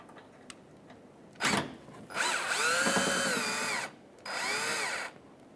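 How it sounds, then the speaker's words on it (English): A power drill backing a Phillips screw out of an Acura MDX bumper, a short first whir, then a longer whine with rising and falling pitch, a pause, and a final burst, close and clear. "now that you've taken your screw out, or your two screws out on the side of your bumper"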